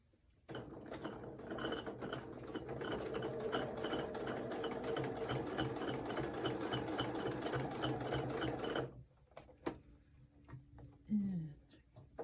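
A sewing machine stitches an ornament with a steady, rapid mechanical whir and clatter that runs for about eight seconds, then stops, leaving faint handling noises.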